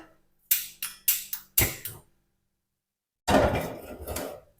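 A pot filled with soup ingredients is set down on a stove, giving a run of several sharp metallic clanks and knocks, then a quiet pause before a longer scraping clatter.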